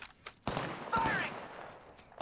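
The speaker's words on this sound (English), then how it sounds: "Firing!" Gunfire in the video game Apex Legends: a few sharp bursts of shots spread across a short stretch, with a brief electronic tone in the middle, moderately loud and close.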